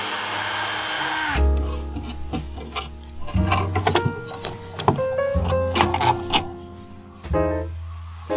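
A power drill bores through the wooden base of a homemade Halloween coffin prop to mount a pneumatic cylinder, with a brief loud whine and then knocks, clicks and handling noises up close.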